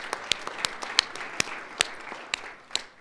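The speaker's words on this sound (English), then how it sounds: "So another round of applause for her." At a spring sports banquet, the audience gives a thin round of applause: scattered individual claps ring out one after another over a low murmur of hands, fading unevenly within a few seconds.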